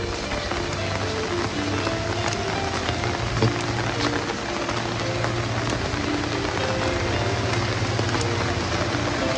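Steady rain falls outside in a hilly village, a dense, even hiss of drops on surfaces that holds throughout with no clear pauses.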